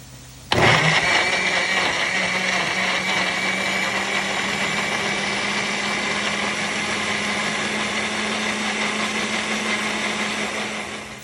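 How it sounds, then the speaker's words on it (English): An electric kitchen blender starts abruptly and runs continuously, blending tomato paste for a chicken biryani in a home kitchen; a loud, steady whirring motor drone that holds for about ten seconds before easing slightly at the end. "I'm going to go ahead and start blending the tomato paste that I'm going to add"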